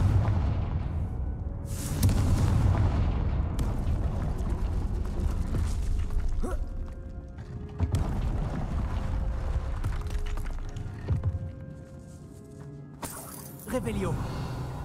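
A Confringo fire-blasting spell goes off in the wizarding game Hogwarts Legacy, a sharp booming burst among other clattering game effects, with someone talking over it.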